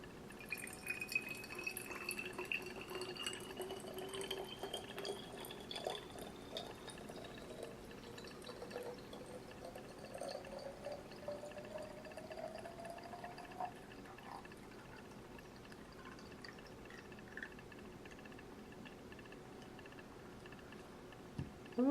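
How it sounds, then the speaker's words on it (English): Water pouring steadily into a bottle, the pitch rising gradually as it fills, with a few drips near the end; quiet and close. "I'm taking this water and I'm putting it in this bottle"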